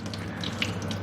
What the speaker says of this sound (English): soak the rice in a bit of water